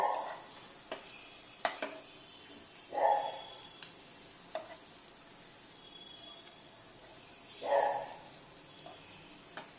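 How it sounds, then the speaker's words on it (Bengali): Banana flower (mocha) kofta frying in oil, with a low steady sizzle under scattered clinks and stirring scrapes of a utensil against the pan, and a few brief louder bursts of spatter. "এপিট ওপিট খুব ভালো করে যাতে ভাজা হয় সেটা দেখে দেখে তুলতে হবে"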